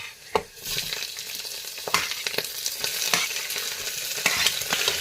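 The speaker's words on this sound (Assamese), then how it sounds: "মাংস আৰু আলু একেলগে দি দিছোঁ। ধুনীয়াকৈ একদম লৰাই লৈছোঁ।" Chicken meat and potatoes sizzle loudly in a hot pan while a spoon stirs them, giving steady frying crackle with repeated scraping strokes, close and without speech.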